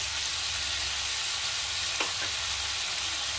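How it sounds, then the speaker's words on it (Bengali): Prawns frying briefly in a pan for a Bengali jackfruit-and-prawn kalia give a steady, close hiss of oil with a couple of faint stirring scrapes; no one speaks. "তো দেখো, চিংড়ি মাছটা কিন্তু ভাজা হয়ে গেছে।"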